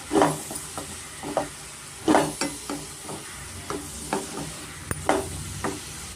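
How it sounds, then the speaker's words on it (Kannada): A spoon stirs potatoes and fenugreek curry in a hot pan. Irregular scrapes and clacks ride over a soft, steady sizzle, with brief pauses between strokes. "ಚೆನ್ನಾಗಿ ಮಿಕ್ಸ್ ಮಾಡ್ಕೊಳ್ಳೋಣ ನಾವು"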